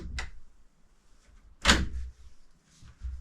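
Front doors of a house swinging open, two short thuds and knocks about a second and a half apart, the second louder, close by in an otherwise quiet space.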